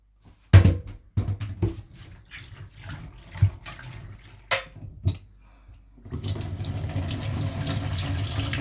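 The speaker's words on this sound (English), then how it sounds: "Put them in water and you wash them." Macaroni is washed in water at a kitchen sink: a tap gushes in short bursts with splashes and knocks of pasta and bowl, then runs steadily and loudly to the end.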